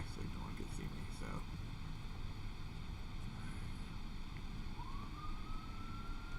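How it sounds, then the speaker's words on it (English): A siren wails faintly from outside, heard indoors against steady background noise, with a rising tone that sweeps up late in the clip. "Oh, I hear some sirens outside"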